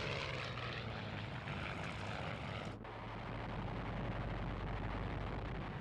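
Propeller engines of World War II RAF aircraft drone steadily in flight, a continuous roaring hum with a brief dip in the middle, heard alone without talk.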